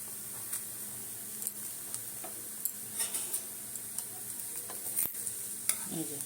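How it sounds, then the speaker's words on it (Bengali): A thin crepe of green moong and chickpea dal batter frying in mustard oil, a quiet, continuous sizzle broken by soft scattered ticks and scraping clicks, with no voices. "ওপর থেকে আবার একটু তেল সর্ষে তেল দিয়েই করছি কিন্তু আমি"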